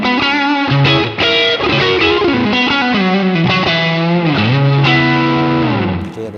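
Electric guitar played through a TS10 overdrive pedal with mid push for solos: a loud, sustained, singing lead line of bent and held notes with distorted harmonics, no voices.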